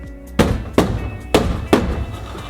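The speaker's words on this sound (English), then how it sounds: "you're going to tap the cap nuts securely with a rubber hammer" A rubber hammer knocks cap nuts onto rivets in a portable toilet assembly, four firm, dull thuds spaced unevenly over a couple of seconds, close by with no talk.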